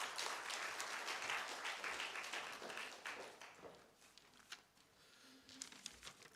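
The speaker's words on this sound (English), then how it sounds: "May I have a round of applause for Mr." An audience at a business forum in Nepal gives a speaker a round of applause, dense clapping at first that thins to scattered, separate claps toward the end.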